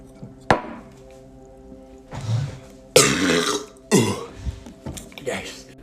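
Loud burps after chugging a can of sparkling water in a TikTok challenge, a few deep belching bursts spaced across a few seconds, close and prominent with voices nearby.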